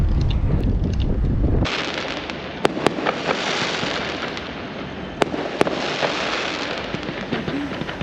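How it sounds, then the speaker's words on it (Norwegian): Fireworks rockets explode all around on a final night in Tenerife, a continuous dense crackling roar with several sharp nearby bangs standing out. "rakettene fyrer rundt oss"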